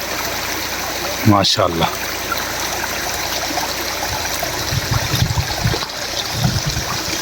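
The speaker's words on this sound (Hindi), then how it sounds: "खूबसूरत वाटरफॉल" The Malaach waterfall stream on Thandiani Road, Kuthwal, rushes as a constant broadband wash of water, with a brief spoken exclamation and some low handling noise over it.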